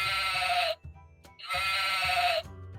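From a Melissa and Doug farm animals sound puzzle, a recorded sheep gives two loud bleats, each lasting under a second, separated by a short gap, clear and close with no talk.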